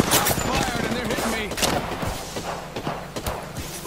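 Gunfire in an Apex Legends match, rapid bursts of shots cracking in quick succession near the player, mixed with footsteps and movement noise while someone talks over it.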